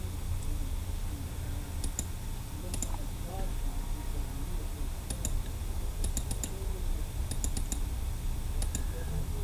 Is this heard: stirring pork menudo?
no